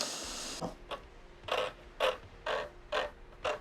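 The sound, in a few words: guitar being tightened up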